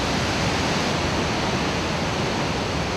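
Aponwal Falls in Canaima, a waterfall nearly 350 feet high, roars as a dense, constant wash of falling water, loud and unbroken throughout with no other sounds.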